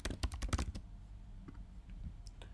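Computer keyboard typing while recording web tests in a browser: a quick run of close, crisp keystrokes at the start, then a few scattered taps against quiet room noise.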